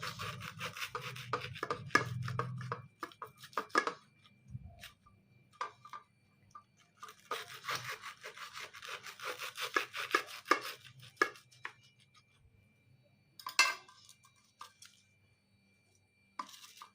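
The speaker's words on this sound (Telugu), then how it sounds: "సో ఇలా పీసెస్లా కట్ చేసేసుకోవాలండి. అన్నీ ఇలా చిన్న చిన్న పీసెస్ లాగా కట్ చేసేసుకోవాలండి." A knife cuts crisp toasted bread into small pieces for an almond bread malai cake, giving close, crunchy chops in quick irregular bursts separated by short pauses.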